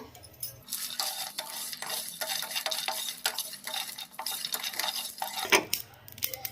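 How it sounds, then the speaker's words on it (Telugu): Coriander seeds, cumin, cinnamon, cardamom and cloves being dry-fried in a pan, with a spoon scraping and stirring against the metal in quick, busy strokes and a faint crackle underneath, close and without any talking. "1 టేబుల్ స్పూన్ వరకు ధనియాలు, 1 టేబుల్ స్పూన్ జీలకర్ర, చెక్క, ఇలాచి, లవంగ వీటిని కూడా వేసుకొని ఫ్రై చేసుకుందాము"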